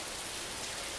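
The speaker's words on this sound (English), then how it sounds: "the smell and sound of rain" Steady, dense rain falls in a bamboo forest in Yibin, Sichuan, a continuous even hiss close around the listener with no voices.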